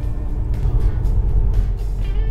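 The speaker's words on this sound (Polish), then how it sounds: "W tym momencie wyprzedza nas auto." Car overtaking on a road, heard from inside a Škoda as a passing engine and tyre rumble that swells briefly over the steady road noise.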